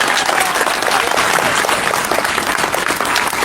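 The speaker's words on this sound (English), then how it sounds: "So please, one more round of applause." An audience claps steadily for the under-19 cricket players from the United States, a dense, loud wash of applause filling the room at a cricket academy gathering without pause.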